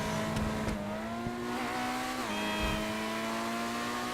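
The Overflod Autarch supercar in GTA Online drives with a sustained engine drone, its pitch rising through the gears, then dropping with a shift and climbing again. It is loud and continuous, with no talk.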